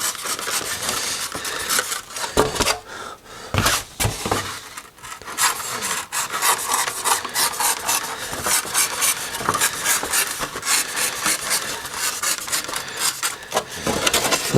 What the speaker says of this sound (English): I'm going to just trim these edges so that it's not quite such a sharp edge